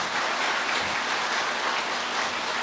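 A studio audience at a Buddhist monk's Q&A talk show claps together in a dense, sustained wash of applause, loud and even throughout, with no voices.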